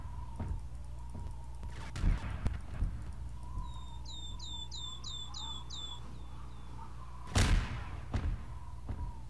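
Horses clip-clop in the video game Garry's Mod: a few scattered hoof-like knocks over a low steady hum. A brief run of rapid bird chirps sits in the middle, and a sharper loud thud comes near the end.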